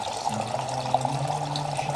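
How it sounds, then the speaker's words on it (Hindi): A small decorative water fountain in a home corner among potted plants trickles and babbles continuously, close up and steady, with nobody speaking. "ये एक छोटा सा फव्वारा है"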